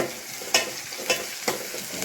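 Whole spices and chilies sizzle in hot oil for tempering while a spoon scrapes through them in four short strokes, close by and without voices.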